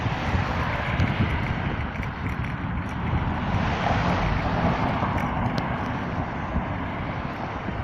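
Steady, loud wind rush buffets the microphone while someone rides a bike outdoors on a chilly day, a continuous roaring blast with no talking.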